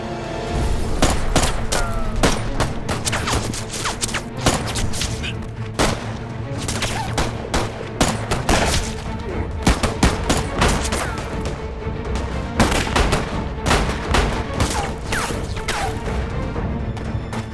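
Rapid bursts of gunfire crack continuously in a Chinese anti-Japanese war film scene, with dense volleys and sharp impacts overlapping throughout at close range.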